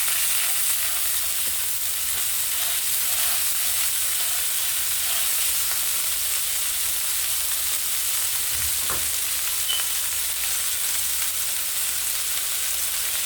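Burger patties sizzle and fry steadily in a hot pan, a constant close hiss with faint crackle and a brief clunk midway, no voices.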